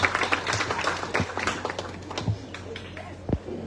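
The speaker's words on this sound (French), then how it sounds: "Nous applaudissons le frère Simon Alphonse" Applause at a school centenary celebration welcoming a brother of a religious order, with brisk clapping mixed with scattered voices and a few sharper slaps. The clapping fades partway through.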